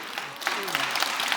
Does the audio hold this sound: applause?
yes